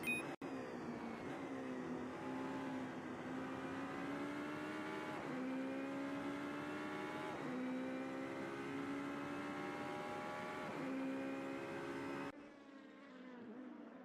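A race car engine in the Super GT racing video game SimSpeed drives through Islas Isrouk, a steady buzzing drone that dips and climbs with gear shifts several times, then cuts off abruptly near the end.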